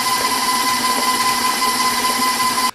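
A stand mixer fitted with a scraping paddle attachment whirs steadily and loudly as four eggs are beaten into the batter all at once, then cuts off abruptly at the end.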